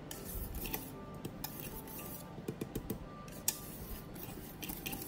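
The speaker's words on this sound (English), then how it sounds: "Then you would use a whisk, doing the same motion as you would earlier." A whisk folds passionfruit chiffon cake batter in a bowl, making soft scraping and clinking strokes in an irregular rhythm, close and fairly quiet.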